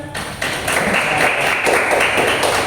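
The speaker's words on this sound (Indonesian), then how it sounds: "Tepuk tangan." An audience in a school opening gathering breaks into applause after a short pause, dense clapping that builds quickly and holds steady and fairly loud to the end.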